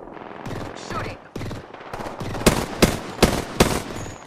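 Video game gunfire during a battle-royale-style shootout: rapid automatic bursts that build into several loud, sharp, evenly spaced shots near the end, with a voice briefly audible early on.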